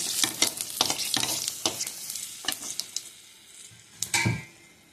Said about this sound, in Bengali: ফোড়নে দেবো জিরা ওই একই তেলে দিয়ে দিলাম লঙ্কা তেজপাতা